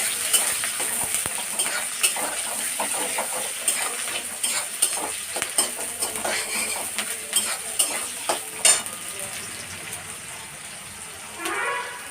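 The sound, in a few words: stirring chopped onion frying in tempering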